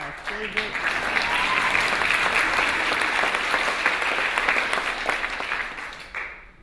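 Audience applause at a human rights award ceremony, steady sustained clapping from a large crowd that fades out at the end.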